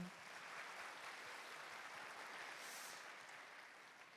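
A live audience at a youth talk concert claps in a soft, steady wash of applause that sounds distant, with no voices.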